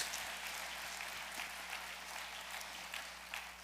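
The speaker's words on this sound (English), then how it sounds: "Clap loud if you understand what I'm saying." A congregation claps at a sermon, a faint, distant, continuous wash of applause with a few sharper claps.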